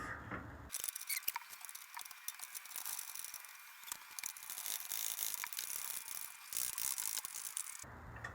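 Ratcheting wrench clicks while bolts are snugged on brackets for a hidden 32-inch LED light bar behind a 2nd-gen Toyota Tacoma bumper, a fast steady run of close, crisp ratchet ticks with brief pauses.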